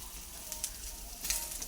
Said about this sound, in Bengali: ফলি মাছ ভাজা করছি।